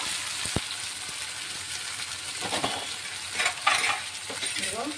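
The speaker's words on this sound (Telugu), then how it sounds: "చూడండి, టమాటా వేస్తున్నాను." Tomatoes tipped into onions frying in a pan for egg curry, giving a steady broadband sizzle with stirring scrapes and a brief clatter near the end, no talking.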